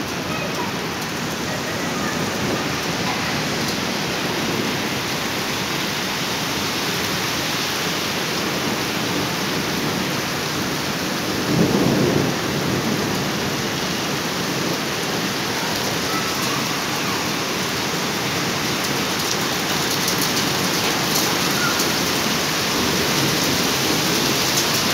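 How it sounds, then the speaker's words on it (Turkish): Heavy precipitation hammers down steadily during a thunderstorm in Mersin, a dense unbroken roar of rain or hail on surfaces, with a brief louder swell near the middle and no talking. "Çok şiddetlendi. Dolu yağıyor arkadaşlar."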